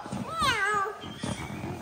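A person's voice imitates a cat's meow, a single drawn-out rising and falling call, set among soft, close talking.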